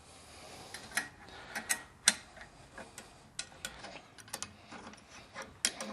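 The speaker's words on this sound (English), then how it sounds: "we're going to go ahead and loosen the 2 bolts that hold this upright in" A ratchet wrench loosens two bolts on a Caroma Walvit wall-hung toilet frame upright, making a quiet run of irregular clicking ticks with a few sharper knocks.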